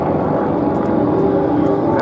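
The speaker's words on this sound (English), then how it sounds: "is the Curtiss T-40C Tomahawk, one of that great family of Curtiss fighters" A Curtiss P-40C Tomahawk fighter flying at the Duxford air show gives a steady, loud propeller-engine drone throughout this brief stretch, close and unbroken.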